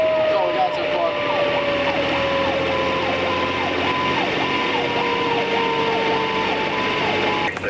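Christiana Rescue Engine 12-6, a fire engine, responds to a structure fire with a loud close wailing siren sweeping up and down repeatedly over a steady whine and engine rumble.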